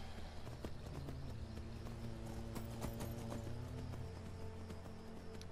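Steady rhythmic horse hoofbeats in the video game Skyrim Special Edition clop along under a low, continuous background hum, moderately loud and unbroken throughout.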